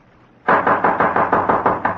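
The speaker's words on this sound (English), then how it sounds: "Suddenly, a loud knocking at his door startled him." Loud knocking on a door as a radio drama sound effect: about eight quick, sharp raps in an even rhythm, close and alone after a moment of near silence.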